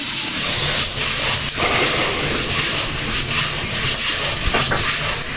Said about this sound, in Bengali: ওই দেখেন মুড়ি কিন্তু একটা ফুটার শব্দ শুনতে পাচ্ছেন